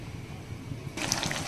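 Water is poured into a hot pan of egg chilli curry masala over a gas flame, a sudden splashing gush that starts partway through after a quiet low rumble.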